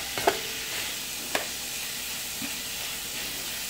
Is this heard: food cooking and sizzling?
yes